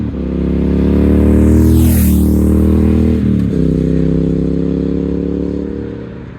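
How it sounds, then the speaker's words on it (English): V-twin motorcycle with a 270-degree crank, its exhaust note a deep loud rumble that swells as the engine revs up, dips briefly as it shifts, then settles into a steady throbbing drone, close by. "it's just the exhaust note, and it sounds absolutely brilliant"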